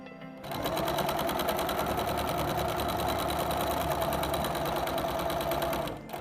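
A sewing machine stitches appliqué thread lines for a spool design on athletic wear. The rapid mechanical chatter starts abruptly, runs fast and steady for about five seconds, and then stops.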